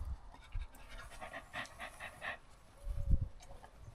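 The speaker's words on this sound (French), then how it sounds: "Chien." A dog pants quietly indoors, a series of quick rhythmic breaths in two bursts with soft snuffling at the end, faint and close.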